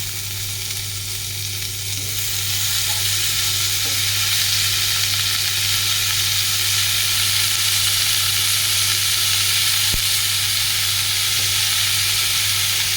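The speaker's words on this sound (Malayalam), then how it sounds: "കഴുകി വെച്ച ബ്രോക്കോളി നന്നായി ഒന്ന് മിക്സ് ചെയ്ത് കൊടുക്കാം കേട്ടോ" Washed broccoli fries in a pan and gets mixed with spices, giving a steady, loud broadband sizzle that fills the whole stretch. A constant low hum runs underneath, and no voices are heard.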